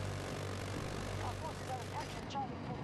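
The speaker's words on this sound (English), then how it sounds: "that's because I'm in a plane" A plane flies in Battlefield 2042, a steady engine drone under game effects with brief whistling tones, while a person talks over it.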